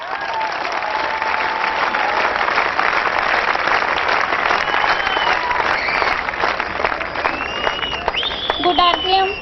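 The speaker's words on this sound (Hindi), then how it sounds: "आप सबकी जोरदार तालियों के बीच" Loud, sustained applause fills a hall at an RCM business celebration event in Chandigarh, a thick continuous patter of many hands, with a voice speaking over it toward the end.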